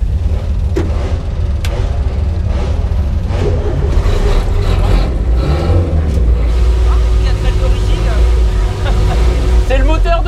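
The original, lightly tuned 45–47 horsepower engine of a Renault 4 runs close by with a constant low rumble and occasional revving under ongoing conversation.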